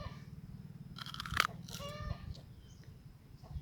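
A single sharp crunch as teeth bite into a crisp, thick-skinned, not-quite-ripe JJ Red fruit on a farm in Sisaket, followed by quieter chewing, with a steady low hum behind and no talking.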